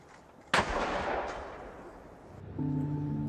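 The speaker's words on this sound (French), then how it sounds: "21 coups de canon viennent alors saluer le destin de ces héros." A single booming cannon shot from a 21-gun salute at a D-Day commemoration, a sharp loud blast with a long rolling echo that fades, followed by sustained brass or band tones.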